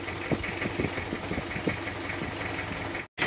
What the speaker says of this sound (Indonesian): Suara knalpotnya bok.